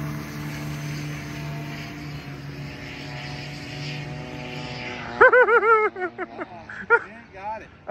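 An RC model airplane engine drones steadily at high throttle, moderately distant, before people talk and the engine note is masked by voices.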